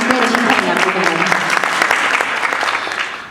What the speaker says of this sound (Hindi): आप ताली बजा सकते हैं